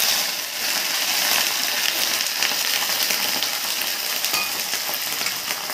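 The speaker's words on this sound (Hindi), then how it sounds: "इसे बढ़िया तरीके से भून लेंगे एकदम गोल्डन ब्राउन होने तक" Chopped onions fry in hot oil with cumin and red chilli, giving a loud, dense, continuous sizzle close by with no voices over it.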